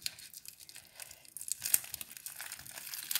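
A small fabric-style pouch sealed with masking tape is opened, giving close, quiet crinkling and tearing of paper and tape in irregular bursts, without speech.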